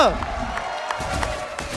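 A live esports crowd at an MPL Indonesia Season 12 match between EVOS Legends and Aura Fire applauds and cheers in a steady, moderately loud roar, while a commentator talks over it.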